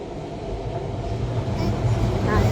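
Rumbling train noise that swells louder as it goes by, with a faint murmur of voices underneath.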